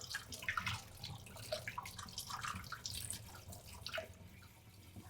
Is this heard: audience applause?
no